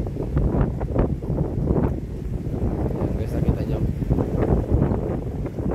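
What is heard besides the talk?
strong wind by the sea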